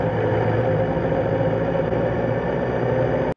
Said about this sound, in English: Some hum off that exhaust here in the laneway.